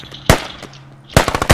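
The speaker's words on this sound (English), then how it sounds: "I'm on the HMG" Heavy machine gun fire in the game Squad, heard as a sharp single shot followed by a rapid close burst of several loud cracks.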